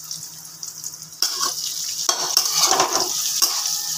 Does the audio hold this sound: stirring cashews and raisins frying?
yes